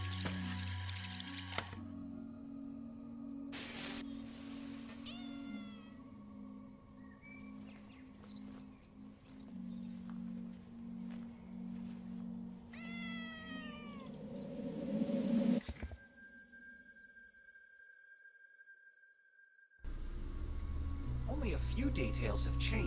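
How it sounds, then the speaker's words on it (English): A cat meows repeatedly in the puzzle game Time Loader, its rising and falling cries standing out over steady game music and ambient tones, with a brief quiet gap before the music swells back. "We'll need to scare the cat away if we want to save Adam."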